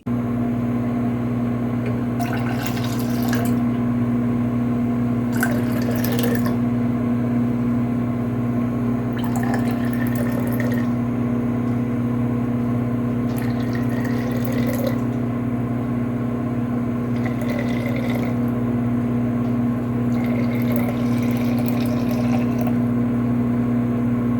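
Tea poured from a large glass teapot with a no-drip spout, a series of about five short, splashy pours over a steady low hum, with no talking.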